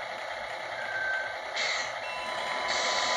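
A Tamiya RC truck fitted with an MFC-01 sound unit emits steady reversing beeps, a continuous high electronic tone pattern over a constant engine hum, loud and close, with no talking.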